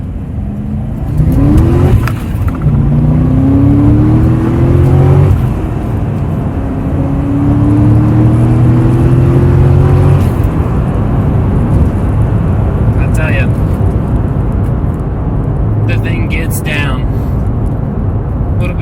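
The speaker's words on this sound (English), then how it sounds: "Tire spin in first gear, haze the tires a little bit coming into second, and then just put the speedometer and the tachometer to the pins in third gear." 2006 Corvette Z06 accelerating hard from first through third gear with tire spin, the engine note climbing in loud rising sweeps and dropping at each upshift, heard from inside the car with a voice speaking over it.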